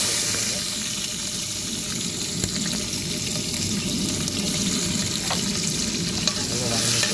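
Green chilies and chopped onion frying in hot oil after mustard and cumin seeds, a steady close sizzle with occasional stirring clatter throughout, no talking.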